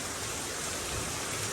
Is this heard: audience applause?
no